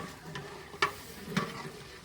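A spice tempering for Girnari khichdi sizzles quietly in a pan, with a few short, sharp bursts of crackle or stirring spaced through the otherwise faint hiss.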